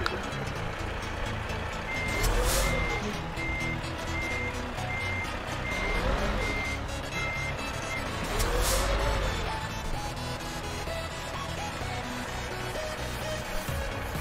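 Repeated truck horn blasts from a heavy lorry in Euro Truck Simulator multiplayer convoy traffic, a few long honks spaced several seconds apart over a steady engine drone and a recurring reversing-style beep tone.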